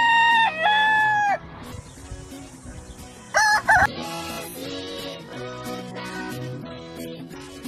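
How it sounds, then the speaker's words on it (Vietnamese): A rooster crows loudly at the start, a long rising-and-falling cock-a-doodle-doo, then gives a shorter second crow a few seconds later over a busy background of mixed farmyard and other sounds. "Gà trống."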